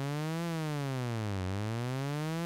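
A steady Omnisphere synth tone under frequency modulation with a triangle shape glides down in pitch in a straight line, then rises again. The buzzy, harmonic-rich drone is continuous and fairly quiet, with no other sounds.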